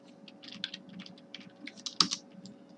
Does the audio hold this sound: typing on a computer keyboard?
yes